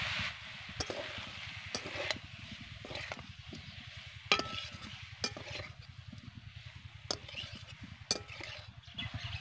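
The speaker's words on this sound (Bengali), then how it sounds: "এবার 1 মিনিট মতন সময় ধরে কষিয়ে নেব" Boiled potatoes for alur dom being sautéed in a pan, with a steady soft sizzle and repeated spatula scrapes and taps against the pan throughout.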